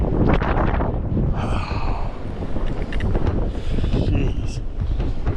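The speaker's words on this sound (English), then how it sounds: "Jeez, the wind's brutal." Strong gusting wind atop Mt. Washington buffets the microphone in loud, continuous roaring blasts, with brief higher whistling passages.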